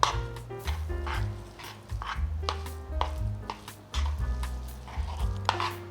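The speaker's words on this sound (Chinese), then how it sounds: "把所有调味料拌匀。" Seasonings are mixed into a bitter melon filling of salt, white and black pepper, sugar, black salt and sesame oil, producing soft repeated scraping and stirring strokes in a bowl with light clicks, close and fairly quiet.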